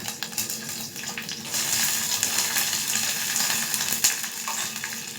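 Gongura leaves go into a hot pan with mutton curry and sizzle loudly, a steady close frying hiss that swells after a second and keeps going with faint stirring clatter, no speech.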